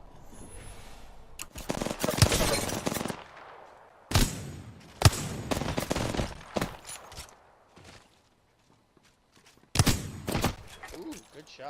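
Gunfire in the video game Apex Legends comes as loud, close bursts of rapid automatic shots in several volleys, separated by brief lulls, with someone talking faintly in between.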